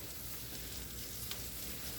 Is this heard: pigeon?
no